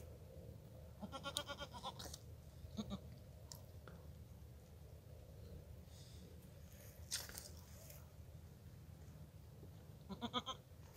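Goats bleating in a pasture during a goat kid birth, with a few short, faint calls scattered over steady low outdoor noise and no talking.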